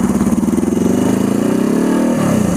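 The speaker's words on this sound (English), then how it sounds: "The response from the turbo is actually really good. You roll in it and it spools up pretty quick." A turbocharged GS400 scrambler motorcycle engine revving loud and close, a steady throbbing pulse rising in pitch as the turbo spools, then dropping slightly near the end.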